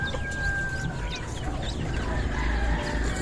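Chickens cluck and fuss close by, with a brooding hen among them, soft overlapping clucks and murmurs over a faint farmyard background.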